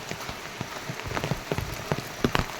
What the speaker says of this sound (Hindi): और बारिश तो लगातार हो ही रही है।